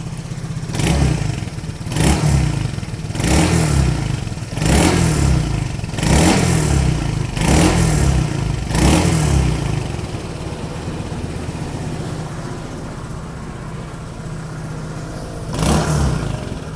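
Motorcycle with a modified open slip-on exhaust revving in repeated bursts, about seven sharp throttle blips with a clattering idle between, then a quieter idle stretch and one last rev near the end, close and loud.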